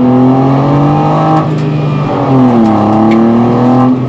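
A Mini Cooper circuit race car holds a loud steady engine drone on the start line, the pitch dipping and rising again as the revs shift, close and alone.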